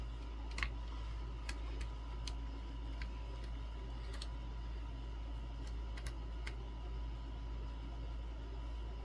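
Protective plastic being peeled off a new Conbola fan, giving scattered faint crinkles and small ticking snaps over a steady low background hum, with no talking.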